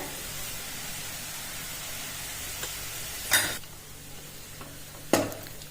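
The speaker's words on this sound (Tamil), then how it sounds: "கீரையை நல்லா எண்ணெயிலே வதக்கியாச்சுங்க" Spinach sautés in oil with mustard seeds and crushed dried red chilies, a soft, steady sizzle broken twice by sharp spoon-scraping stirs against the pan.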